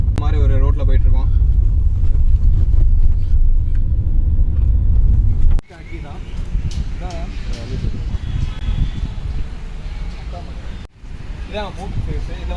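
A Mercedes C-Class E220d diesel car driving along a road, heard from inside as a steady low rumble of engine and tyre noise, with someone talking over it throughout.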